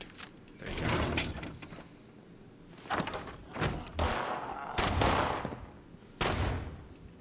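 Gunfire in the video game Fallout 76: several sharp broadband shots and thuds in irregular bursts, some close and loud, over a steady background hum, with no talking.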